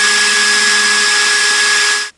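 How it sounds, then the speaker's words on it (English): A power drill bores a hole through a plastic Kung Fu Robot toy by P-Toy, a loud, steady whirring drone up close that cuts off abruptly after about two seconds. "Hold it in place like that and drill right through here."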